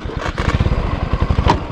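A motorcycle engine labours on a steep hill road in Kavre, Nepal, with a close, rapid throbbing pulse that rises and falls slightly in loudness.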